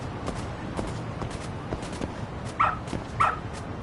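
Dog in the Lost Judgment video game gives two short yips near the end, standing out above a steady murmur of game background noise.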